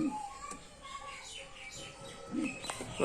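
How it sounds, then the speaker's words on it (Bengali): Pigeon chicks and adult birds in a breeding cage, with faint chirps and soft low coos scattered through, quiet and close, over light background noise. "এখানেও জচ্চা পায়রা বাচ্চা আছে"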